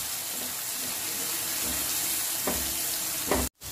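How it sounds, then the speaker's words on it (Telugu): Finely chopped onion frying in a pan, a dense, even hiss of sizzling oil with a couple of soft stirring sounds, close and steady before a sudden brief cutoff. "ఆనియన్ మంచిగా ఫ్రై అవ్వాలి"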